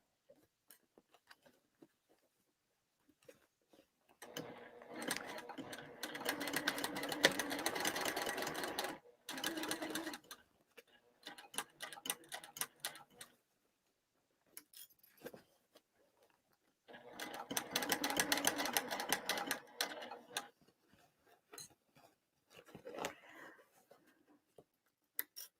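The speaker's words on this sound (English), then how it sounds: "Changing my stitch length and we're going to sew." A sewing machine stitches a fabric bag lining at a short stitch length in two sustained bursts of mechanical whirring and rapid needle patter, with brief pauses and scattered clicks between runs.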